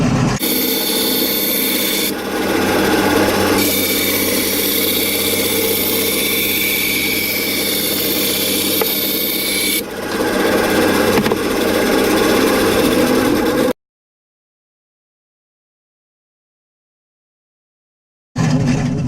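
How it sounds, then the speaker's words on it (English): A bandsaw cutting black perspex body panels, with a loud, steady motor whine and rasping blade noise that shifts in tone as the cut progresses, then stops abruptly into silence before a brief restart. "we're going to cut them out on the bandsaw"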